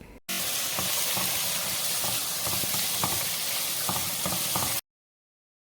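Chopped tomatoes and onions sautéing in a pan for a Kerala-style quail roast, a dense close sizzle with scattered stirring scrapes and clicks, loud and continuous before cutting off abruptly.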